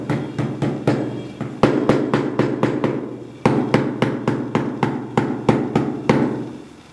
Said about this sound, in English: we're trying to create like little wormholes using the different points of the slag hammer